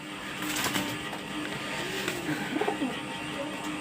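Pigeons of a pair of fancy breeds such as Damascene, Budapest and Lalpatti, cooing softly in short rounded calls through a steady background hiss, with a brief cluster of calls near the end.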